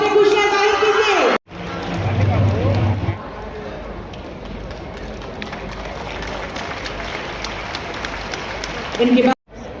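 Audience applause at a government foundation-stone and inauguration ceremony: a voice on the loudspeaker gives way to a long stretch of steady crowd clapping, then the amplified voice returns at the end.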